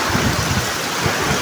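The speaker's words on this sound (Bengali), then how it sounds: "এই দেখেন কী পরিমাণ বৃষ্টি হইতেছে এখন" Heavy rain pours down in a dense, steady hiss that stays loud and unbroken throughout, with a low rumble underneath.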